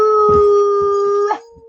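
A dog howls in a long, sustained, steady-pitched wail, loud and close, with a few short yips and whimpers breaking in before it fades.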